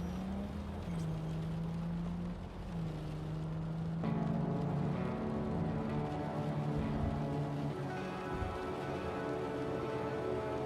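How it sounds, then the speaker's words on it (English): Rain patters softly and steadily on a car windshield in the video game Cyberpunk 2077, under a low engine hum and sustained tonal drones. "Listen to the rain on the windshield."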